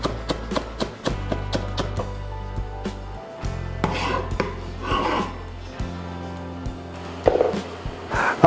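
A knife chopping the green part of an herb on a board, quick rhythmic taps that come in short runs over a background of steady tonal music.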